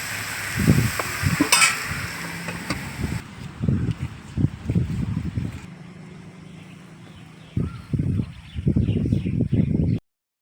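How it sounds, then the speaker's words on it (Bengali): Onions fry in a little oil in a wok at a village kitchen. A light sizzle is heard at first, then repeated scraping and clattering of the spatula as the onions are stirred, all without speech. "কড়াইতে অল্প করে তেল দিছি জাস্ট পেঁয়াজটা একটু হালকা লাল হওয়ার জন্য"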